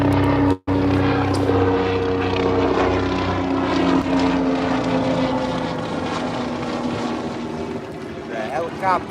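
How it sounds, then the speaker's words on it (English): A helicopter flies overhead with a steady engine drone and rotor-like throb throughout, loud and close, while people talk over it near water during a crappie fishing trip. "The helicopter."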